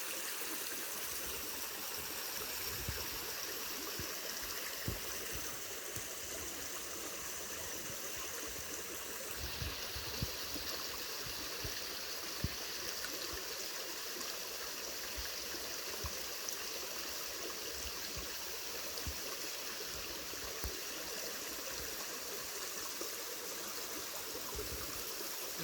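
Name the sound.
water poured from a cup into a bottle at a creek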